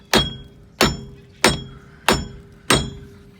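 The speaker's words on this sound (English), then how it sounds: "Just taking a rubber mallet and just giving it a few good whacks to break the rust off." Five evenly spaced, sharp whacks of a rubber mallet against a rusted Jeep TJ axle u-joint, each a close, loud thud with a metallic ring that decays before the next strike.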